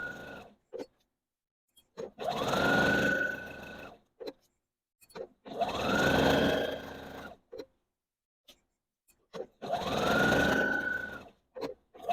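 A home sewing machine runs in three bursts of stitching along a Christmas pillow case, each lasting around two seconds. Faint clicks come from the machine between the runs.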